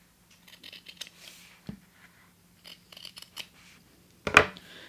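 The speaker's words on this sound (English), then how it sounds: "take scissors and trim the seam allowance at an angle" Scissors snipping fabric to trim a sewing seam allowance, a series of quiet close cuts with small clicks, ending in one louder sharp snip.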